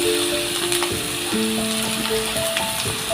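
Grated carrot frying with onions in an open pan for a carrot and spinach fry, a loud, close, continuous sizzle with a few clinks and scrapes, no voices.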